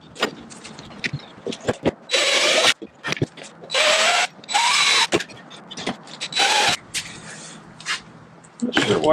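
A power drill bores into a coolant pipe on a Porsche 997 Turbo engine that has been removed from the car. Four loud whirring bursts, each about a second long, are separated by clicks and handling noises.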